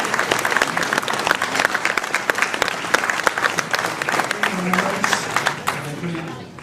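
A crowd at a mayor's New Year greetings ceremony in Ouistreham applauds a medal recipient with lively, dense clapping, while a few voices murmur beneath toward the end as the clapping thins.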